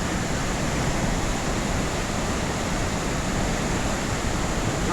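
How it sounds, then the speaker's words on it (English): A loud waterfall at Havalem in Goa, heard up close as a dense, steady roar of falling water that fills the whole clip without a break. "I'm much closer to the waterfall now. The noise, man, I don't know if you can really hear it on here"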